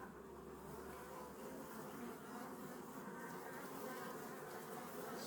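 Honey bees buzzing steadily around an open hive during an inspection, a dense continuous drone close by that holds level throughout with no talk over it.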